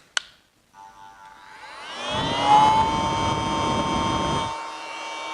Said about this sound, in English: So now let's hear the sound of this vacuum cleaner.